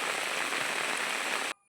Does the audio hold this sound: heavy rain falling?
yes